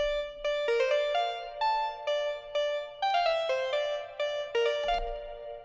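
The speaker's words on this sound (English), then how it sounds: "So everything that plays kind of has that echoey feel to it." Bright plucked synth notes in a melodic run, each ringing into a long echoey reverb tail that fades out at the end.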